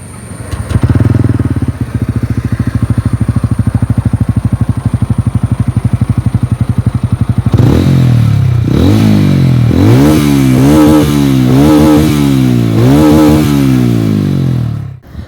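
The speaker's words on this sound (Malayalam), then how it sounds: "നമുക്ക് എന്തായാലും ഇതിൻ്റെ എക്സോസ് നോട്ടൊന്ന് കേട്ട് നോക്കാം" TVS Ronin 225 motorcycle with a 225.9 cc engine, nearby: a loud, thumping idle for several seconds, then a series of rising and falling throttle blips that build into repeated revs before cutting off.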